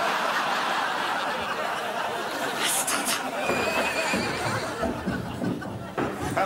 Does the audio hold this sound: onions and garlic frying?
no